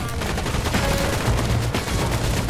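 Sustained gunfire in the game Fortnite, a dense rapid stream of shots for a couple of seconds with steady loudness and no talking.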